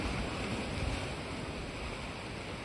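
Seawater rushing through a narrow rocky canyon on the Australian coast makes a steady, dense roar like surf, with some wind noise on the microphone, loud and continuous throughout.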